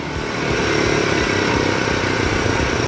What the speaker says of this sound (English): The little single-cylinder engine of the CT110 was simple, economical, and practically impossible to kill.